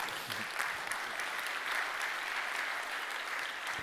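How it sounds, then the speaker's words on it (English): Audience applause for panelists at the Europe-forum 2023 discussion, a steady, dense wash of clapping held at an even level throughout, fairly distant with no voices over it. "I would like to propose a round of applause for our wonderful panelists."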